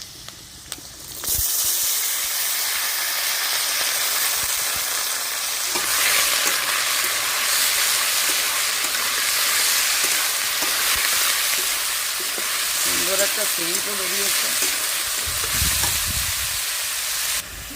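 Chopped ghatkol leaves drop into a wok of oil with fried garlic and cumin, setting off a loud burst of sizzling that hisses on steadily, broken by stirring scrapes and clatter, with no talk.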